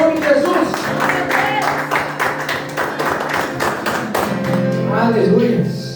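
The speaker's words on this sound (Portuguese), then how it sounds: "Aplauda o nome de Jesus" A church congregation claps rhythmically during an Easter service, with quick, even claps running steadily beneath louder voices.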